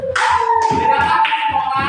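Children in an elementary classroom clap their hands in a short patterned rhythm, several crisp claps close by, while a voice carries a sung or spoken tone over them.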